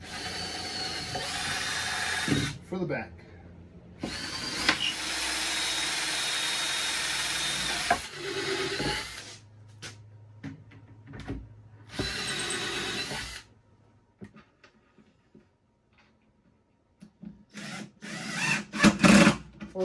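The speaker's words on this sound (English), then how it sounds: "Now follow the same procedure and drill some holes" Power drill boring holes into half-inch-thick solid cherry wood, loud sustained whirring bursts of several seconds each, separated by short pauses and ending in shorter intermittent spurts.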